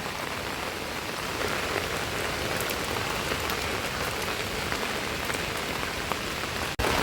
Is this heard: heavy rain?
yes